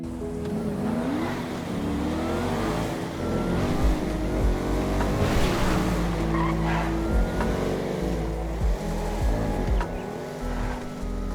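A Gallivanter Baller ST, a long-wheelbase SUV modelled on the Range Rover Sport SVR Ultimate, drives in GTA Online. A steady engine drone runs throughout, with tire squeals and skids over a busy, continuous backdrop.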